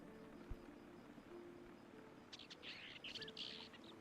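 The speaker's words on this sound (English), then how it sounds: "Loud birds." Several birds chirp and tweet in quick bursts over a faint steady hum in the video game Heartopia, growing busier toward the end.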